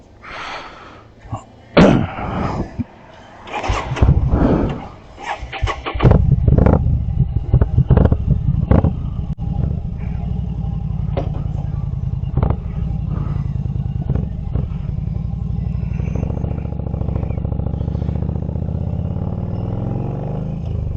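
An air-cooled motorcycle engine starts up after a few clatters and door-like knocks, then settles into a steady, close idle that runs continuously to the end.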